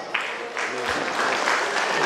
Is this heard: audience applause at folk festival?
yes